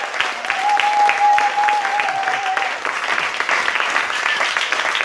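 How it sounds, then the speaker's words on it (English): Audience clapping for storytellers and a choir at an evening storytelling show, dense sustained applause from a full room with a few voices calling out over it. "Let's have a round of applause for all of our storytellers and our choir."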